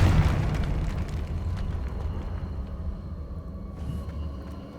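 A Confringo explosion spell from the video game Hogwarts Legacy goes off with one loud, booming burst that rolls into a long, fading rumble, heard alone.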